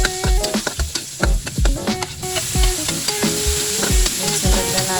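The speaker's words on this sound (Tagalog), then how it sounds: "Then igisa natin ang ating bawang. Dito na rin natin igisa sa ating pinaglutuan ng isda guys" Garlic sautéing in a frying pan previously used to fry fish, with a steady sizzle under repeated stirring and scraping strokes of a utensil against the pan, close and fairly loud with no talking.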